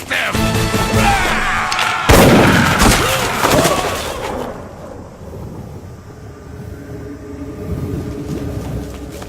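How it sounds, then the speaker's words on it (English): A single sharp gunshot in an anime battle scene bursts loud and close, then booms and rumbles away into a fading tail, with dramatic sound effects before it. "Lost your nerve with a single gunshot, huh?"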